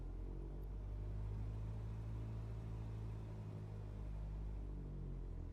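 A steady, droning engine rumble with a low tonal hum from a simulated aircraft taxiing in Microsoft Flight Simulator at Long Beach, California, holding an even level throughout without pause.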